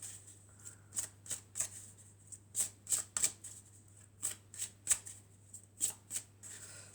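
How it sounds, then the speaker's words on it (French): Tarot cards being shuffled and drawn, a quiet run of crisp riffling snaps in quick, uneven bursts over several seconds, close and alone. "Alors, on va prendre encore une autre carte."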